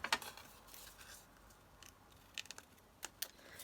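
Scissors snip through paper ephemera in a few quiet, crisp cuts, with a cluster at the start and more scattered snips later. The room is otherwise hushed.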